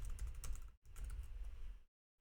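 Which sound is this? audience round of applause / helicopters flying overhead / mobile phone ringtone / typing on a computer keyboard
typing on a computer keyboard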